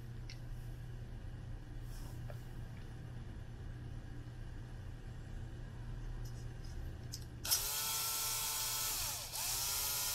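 A small electric screwdriver removes small screws from a Hitachi D-10 cassette deck, running with a high steady whine for a couple of seconds after quiet handling clicks, then briefly spinning again.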